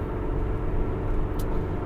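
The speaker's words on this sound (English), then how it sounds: "with the background of the car and being on the road, on the freeway" Steady low road rumble inside a car cruising on the 210 freeway, a continuous close hum of tires and engine with no voices.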